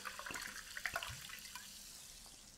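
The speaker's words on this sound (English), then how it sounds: "maybe the water was too loud" Running water from a tap, faint and a little distant, with small splashes and drips breaking through a soft steady wash; nobody speaks.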